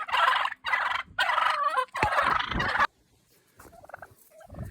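Wild turkeys gobble loudly nearby in several rapid, rattling bursts, followed by fainter clucks and calls from the flock.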